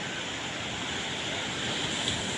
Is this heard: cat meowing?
no